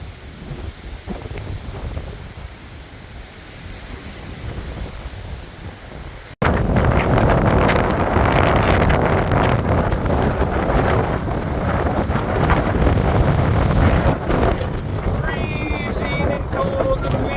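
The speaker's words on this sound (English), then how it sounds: "Freezing and cold and windy." Strong, freezing wind on the Appalachian Trail in Shenandoah National Park buffets the microphone with a rushing, roaring roar that grows louder midway and stays constant, drowning out any other sound.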